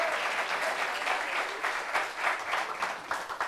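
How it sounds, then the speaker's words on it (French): A small live audience claps for comedian guest Zongo Adama. The applause is continuous and slightly uneven, rising and falling over a few seconds with no voices. "On applaudit pour lui."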